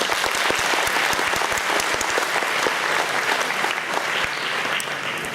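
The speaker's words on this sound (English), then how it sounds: "please give her another round of applause" An audience at an annual function applauds a performer after a finale, steady, full clapping from a large crowd, loud and sustained for the whole stretch.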